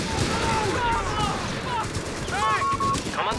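Small arms gunfire in the video game Company of Heroes 3 sounds as dense crackling rifle and machine-gun bursts amid battle noise, with voices calling out over the shooting.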